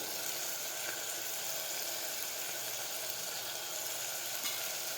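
Kashmiri chili powder, turmeric and cumin fry in hot oil in a pan for a black-eyed pea and potato curry, giving an even, soft, continuous sizzle close by with faint stirring and no voices.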